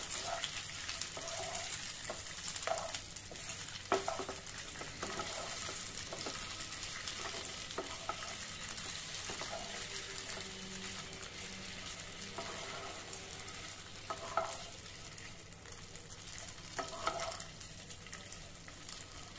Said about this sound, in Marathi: आता यामध्ये आपण आपले स्टीम केलेले बॉल्स घालणार आहोत आणि छानपैकी परतून घ्यायचे आहे